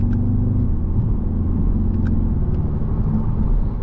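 A 2023 Audi TTS with a dual-clutch gearbox drives along, its engine giving a steady, loud low rumble that shifts slightly in pitch, with road noise throughout and no talking.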